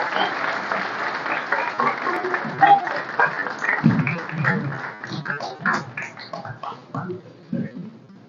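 Audience applause at a ceremony honouring performers of Paraguay's national anthem, a dense steady clapping from a crowd lasting throughout, with a voice speaking over it at times.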